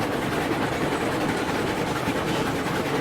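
Long freight train from the RailRoads Online game rolling along steadily, a dense continuous rumble with faint clickety-clack, loud and close throughout with no talk.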